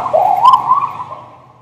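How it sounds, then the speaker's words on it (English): A single wailing siren tone from a passing car sweeps past, rising and then fading as it moves away, loud at first and tapering off. "you hear how the siren goes from that way?"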